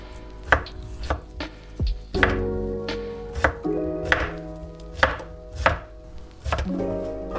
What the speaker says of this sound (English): Let's chop up the rest of the onion.